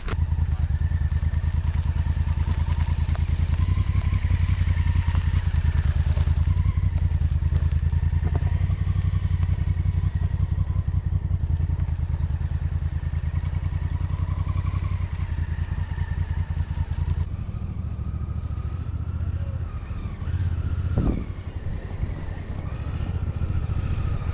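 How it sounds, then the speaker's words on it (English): An adventure motorcycle rides off-road around a boulder, its engine droning loud and continuous nearby with occasional clatter and thumps, then easing toward the end. "You step to the right, shift your weight to the right, and your bike's going to go out."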